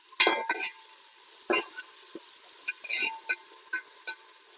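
Ginger garlic paste frying in a pan for chicken fry piece biryani, with a soft sizzle under sharp spoon scrapes and taps as it is stirred, close and moderately loud.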